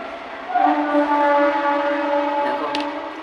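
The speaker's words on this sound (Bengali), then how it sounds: "পাঁচ মিনিটও যায় না ট্রেন যায় এখানে কৃষ্ণনগর শান্তিপুর লালগোলা রানাঘাট গেদে তাই তো পাঁচটা ট্রেন যায়" A train on the Krishnanagar–Shantipur line sounds a long tonal horn, fairly loud and held for about three seconds with no speech over it.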